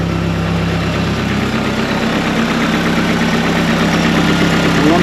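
A Vauxhall Astra VXR with a big turbo, reprofiled cams and a solid flywheel idles steadily up close, a loud, even low rumble with a constant mechanical hum and slight rattle throughout, no voices.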